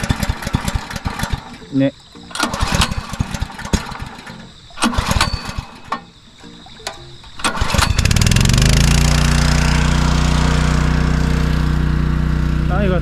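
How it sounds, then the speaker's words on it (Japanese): An engine-driven water pump used for garden watering fails to catch at first under brief talk, then starts at about eight seconds and settles into a loud, steady run to the end. "まずポンプかけちゃうか。"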